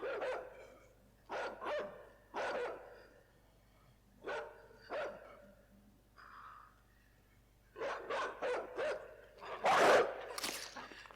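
A dog in the puzzle-platformer game Inside barks sharply in short bursts, several in a row with pauses between. Near the end, louder rapid barks and panting join in.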